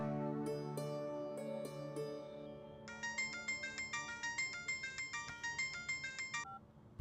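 A phone ringtone plays during a call in a Telugu drama scene: a few soft tones, then a bright repeating electronic melody pulsing steadily for several seconds, clear and alone.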